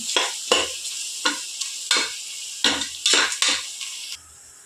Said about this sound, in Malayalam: നന്നായിട്ട് വാട്ടിയെടുത്തതിൽ അരച്ച് ഇളക്കി കൊടുക്കുക അടി പിടിക്കാതെ നോക്കണം